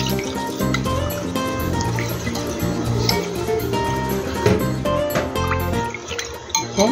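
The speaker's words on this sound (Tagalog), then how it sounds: "O lalagyan natin ng tubig." Water poured from a container into an oyster sauce mixture for stir-fried cucumbers, a steady liquid trickle and splash with faint clinks, heard over a continuous background hum.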